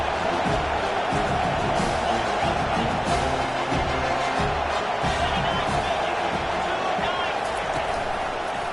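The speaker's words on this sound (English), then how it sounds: "this crowd is turning it up a notch" Football stadium crowd cheering as it grows louder, a dense continuous roar with thuds and whoops under a broadcaster's voice.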